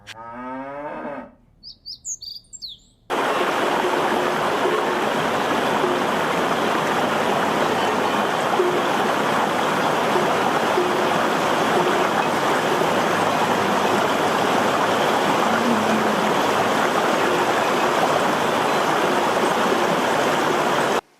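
Steady, loud rushing of a waterfall and stream running through the rocky Verzasca Valley in Switzerland, a continuous broadband roar that fills the whole scene after a brief quieter start with faint bird chirps.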